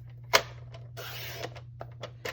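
Designer series paper being cut into one-inch strips with a paper trimmer, a short close mechanical clack followed by a soft sliding swish of the blade and a few light taps, quiet and alone.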